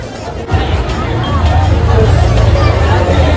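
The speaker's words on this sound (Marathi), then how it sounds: "जाम गर्दी आहे म्हणजे बघू शकता पूर्ण एवढी सगळी लोक आली खायला" A dense crowd at the Aagri Koli food festival in Dombivli, among food stalls: steady, close babble of many overlapping voices with no single speaker standing out.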